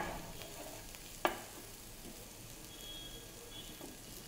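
Chicken roasting in a pan for grilled chicken with mushroom sauce gives a steady, fairly faint sizzle throughout, with one sharp clack of a utensil against the pan early on.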